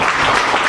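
A church congregation claps loudly during a sermon: a short, dense burst of many hands clapping together at full strength, with nothing else audible.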